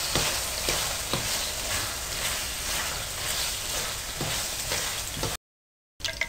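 Potatoes hit hot oil with frying chillies, giving a steady bright sizzle with a few soft knocks of stirring, cut briefly by a gap of silence before the frying resumes.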